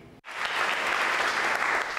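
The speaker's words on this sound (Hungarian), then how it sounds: "A kiváló tanulóknak szól a taps." Sustained applause from an audience honouring excellent students at a school ceremony, steady dense clapping heard alone after a brief silent gap.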